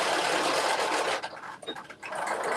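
A sewing machine runs steadily while stitching the last stretch of a facing onto a Butterick 6989 garment, a dense close whir that slows and stutters into brief pauses and restarts near the end.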